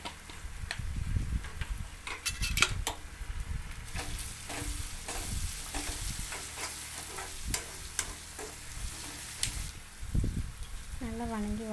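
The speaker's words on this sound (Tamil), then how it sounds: "மிளகாய்த்தூள் போட்டு நல்லா தேங்காய் எண்ணெயில் நல்லா வணக்கி விட்டுருங்க" Chili powder sautéing in coconut oil in a pan, a steady loud sizzle with frequent stirring scrapes and clinks, a voice briefly talking near the end.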